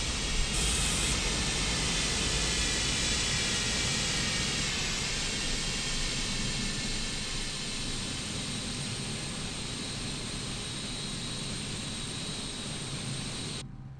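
Antonov AN-225 engines winding down after fuel cutoff in Microsoft Flight Simulator 2020, a steady airy turbine roar and hiss that slowly fades and dulls over several seconds, with no talk.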